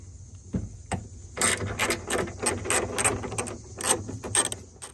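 A ratchet wrench loosening the bolts of a side mirror on the door of a 1994–1998 Chevy S-10 pickup, close and loud with a couple of knocks first, then rapid clicking bursts that stop and start.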